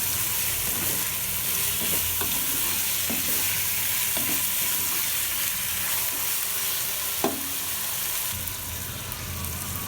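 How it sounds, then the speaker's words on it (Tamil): Half a kilo of chicken with onion and tomato sautés in oil, giving a loud, dense and continuous sizzle with occasional stirring knocks and one sharp clink. Heard close up, with no talking. "எல்லாத்தையும் இந்த எண்ணெயில் வதங்க விடுங்க."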